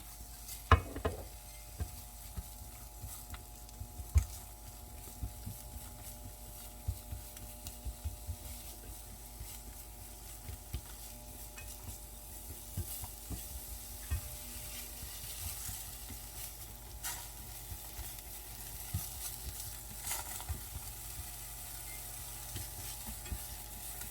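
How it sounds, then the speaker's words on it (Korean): Vegetables stir-fried in butter in a pan, with a steady low sizzle and scattered soft stirring scrapes and taps over about twenty-four seconds, fairly quiet and without any voices. "야채를 넣어 주시고요. 버터가 입혀지도록 살짝 볶아 주실게요."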